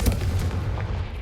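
A Confringo blasting spell in Hogwarts Legacy erupts as a short, heavy booming blast with a sharp onset and a rumbling tail, loud and alone.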